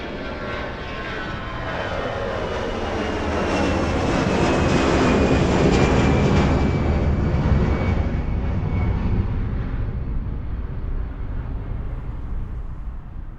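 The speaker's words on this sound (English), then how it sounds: "reproducing the exact position of an airplane as it passes by, from taking off to flying directly overhead" A jet airplane takes off and roars steadily, its engine noise swelling as it passes directly overhead, then slowly receding into a fading rumble.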